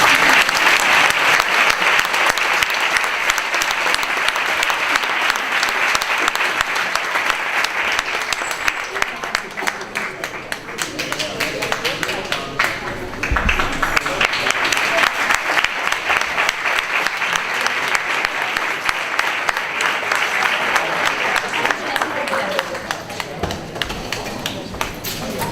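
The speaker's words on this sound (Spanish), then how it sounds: "Aplaudimos." Audience applause for an orchestra at a concert, a dense, steady clapping crowd that continues loudly for the whole stretch with a brief dip midway.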